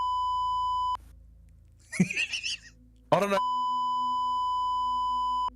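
Steady sine-tone beep from a soundboard beep button sounds for about a second, breaks off for a few words of speech, then returns and holds continuously to the end.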